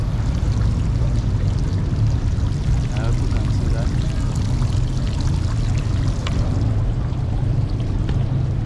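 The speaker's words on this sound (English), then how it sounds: "There's even water fountains." Splashing, pouring water from fountains at the newly completed Tom Mboya statue in Nairobi, a steady outdoor wash of falling water with someone talking over it.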